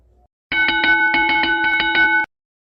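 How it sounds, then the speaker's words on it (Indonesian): A school bell rings steadily for nearly two seconds to open a Sunday school children's game, a loud, sustained electronic chime with regular pulsing strikes and nothing else around it. "Ketika kalian mendengarkan suara lonceng, kita akan memulai permainan kita."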